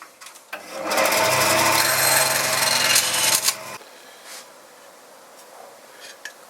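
A power tool cuts a wooden support to size during a barn-find restoration, giving a loud, buzzing, raspy cut of about three seconds that ends abruptly. Quiet workshop sounds and faint clatter follow.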